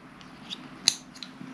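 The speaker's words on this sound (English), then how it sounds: "And actually, you can just click it" Small plastic clicks as a GoPro remote's quick mount snaps into its clip on a BMW R1200RT motorcycle, a few light, close ticks with one sharper snap in the middle.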